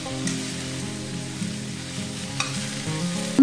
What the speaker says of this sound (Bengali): মিডিয়াম হিটে এটা আমি ভেজে নেব।